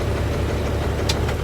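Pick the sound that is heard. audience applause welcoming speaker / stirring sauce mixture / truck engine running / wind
truck engine running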